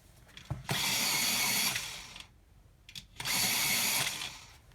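An aqua blue colored pencil is sharpened in an electric sharpener, giving two loud, steady whirring grinds of about one and a half seconds each, separated by a short pause.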